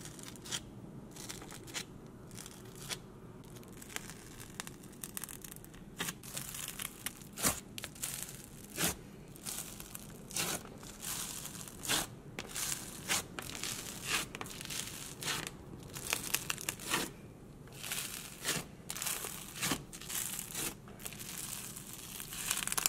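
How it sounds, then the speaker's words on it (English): Fingers squish a thick bubble berry jelly slime, popping the bubbles on top with a quick run of close, crisp crackles and squelchy pops, with no talking. "I'm like obsessed with popping the bubbles on top of the fresh slimes"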